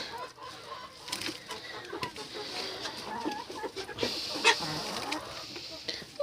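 Cochin chickens and ducks at feeding time in a farmyard, a steady mix of clucking and fowl calls close by with scattered sharper squawks, continuing throughout without speech.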